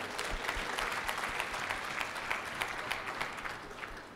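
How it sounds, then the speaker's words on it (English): Applause fills a church during a sermon as the congregation claps together, a dense, even patter of many hands that holds steady for several seconds, heard from a little distance with no talk over it. "Let's clap for Jesus."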